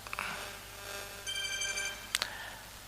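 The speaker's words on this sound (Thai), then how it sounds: "มีโทรศัพท์เข้ามา" A telephone rings with an incoming call, a bright repeating electronic ring standing out over a quiet room with faint background noise.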